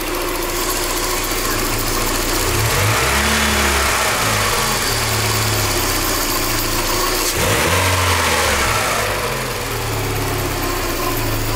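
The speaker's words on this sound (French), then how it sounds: "ça fait des petits bruits de courroie ou de roulement" A Peugeot 406 Coupe engine idles steadily and loudly, with a continuous whirring undertone of belt or bearing noise and two brief surging swells, heard alone without talk.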